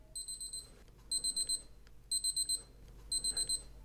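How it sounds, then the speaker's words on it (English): A vintage Casio W740 digital watch's countdown timer beeps in four quick bursts of four high electronic chirps, one burst each second, faint but clear over a quiet room. "You had beeps for 10 seconds and then it reset to 15 seconds."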